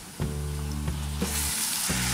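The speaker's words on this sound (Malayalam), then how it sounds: "ഇനി നമുക്കിതിലേക്ക് എടുത്തു വച്ചിരിക്കുന്ന ആ പ്രോൺസ് ചേർത്ത് കൊടുക്കാം" Prawns dropped into a hot pan for a Kerala chemmeen theeyal, bursting into a loud steady sizzle with a few sharp clicks of spatter running throughout.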